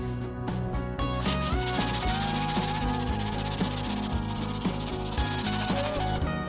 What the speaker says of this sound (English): continue tomorrow with sanding the filler